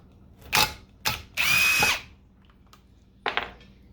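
Power drill backing machine screws out of an electric motor and variable drive gearbox, several short whirring bursts and one longer run, close and loud in a quiet workshop.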